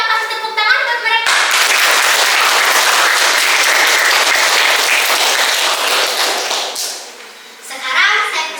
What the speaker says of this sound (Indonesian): Yuk kita kasih tepuk tangan buat mereka.